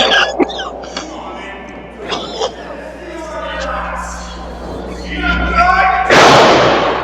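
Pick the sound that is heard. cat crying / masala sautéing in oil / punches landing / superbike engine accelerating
punches landing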